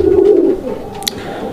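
A large Gopalganj domestic pigeon gives a short, low, throaty coo, close and fairly loud, fading after half a second into quiet background.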